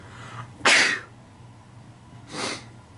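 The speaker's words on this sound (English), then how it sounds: "Sorry, I need to sneeze." A single sharp sneeze bursts out close by, followed a moment later by a softer breathy exhale or second sneeze, in an otherwise quiet room.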